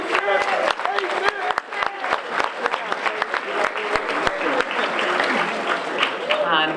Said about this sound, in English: So we want to give him a round of applause and thank you for your time.